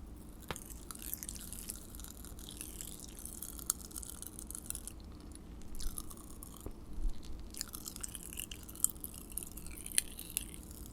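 Faint crackling and popping of Pop Rocks candy in a mouth, dense small snaps scattered irregularly over a quiet background, close to the ear, with no talking.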